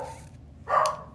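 A dog gives one short, loud bark near a home kitchen during a morning routine, with a faint earlier yip and a quiet indoor background before and after it.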